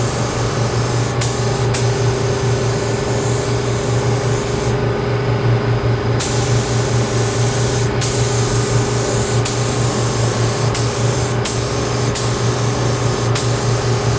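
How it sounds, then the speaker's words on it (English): A cup spray gun sprays ceramic coating in a long continuous loud hiss with a steady low compressor-like hum beneath, broken by several brief trigger cutoffs and one longer pause midway; no talking. "These cup gun attachments really help also because I can sit here and spray the air out of the paint."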